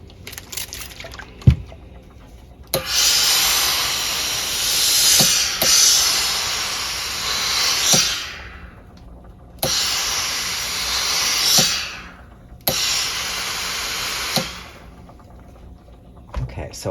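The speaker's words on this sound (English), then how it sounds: "Now let's one more steam." Steam iron hissing in three long bursts while pressing a garment sleeve, each spray a loud broadband rush lasting a few seconds, separated by quieter gaps with small clicks and thumps of the iron.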